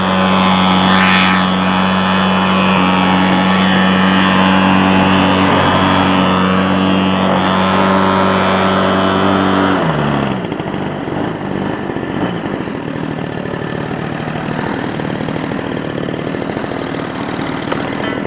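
The small engine of a Hanger 9 PA18 Super Cub model airplane drones loudly and steadily at a flying field, then its pitch drops and it fades as the plane pulls away.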